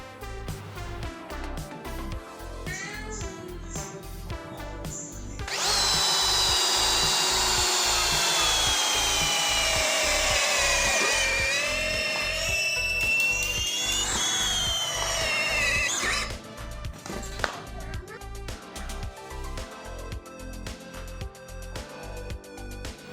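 A Doliz BD637 cordless drill in drilling mode at speed 2 whines steadily as it bores into mahogany for about ten seconds, with rhythmic clicking and handling noise before and after.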